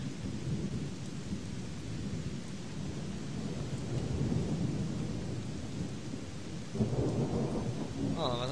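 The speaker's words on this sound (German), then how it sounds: "Bei mir regnet es richtig." Rain and thunder in a video game, a dense steady rain hiss with low rumbling thunder rolling throughout, a sharper crack near the end, and no speech over it.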